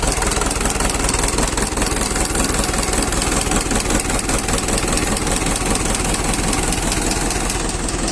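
An Isuzu 4D31 diesel engine idles close by during an engine test, a loud, steady rhythmic chugging and knocking that runs without a break.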